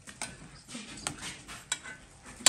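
Spoon stirring in a pot during tortilla making, a few sharp scraping clinks spaced irregularly over faint kitchen background, close and fairly quiet.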